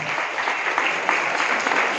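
Steady applause from an audience at a Christmas celebration, a dense, even patter of many hands held at moderate level throughout.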